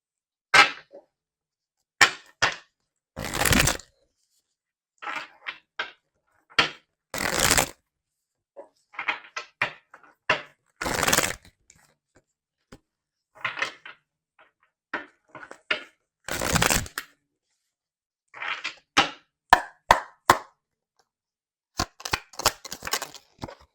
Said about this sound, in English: let's get some more cards to see more of what's going on here